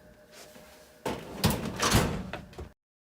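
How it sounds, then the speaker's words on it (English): A drawer full of electronics probes on an oscilloscope workbench is yanked open, giving a sharp slide followed by a few rattling, clattering bumps of loose contents, then abrupt silence. "we're going to yank out another probe from the probe drawer"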